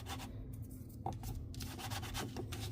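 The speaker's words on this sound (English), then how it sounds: "We'll give it a good burnish to make sure that liquid glue" Close, steady rubbing of a tool pressed over a glued paper panel on a handmade pop-up card, soft continuous scraping strokes with no voices.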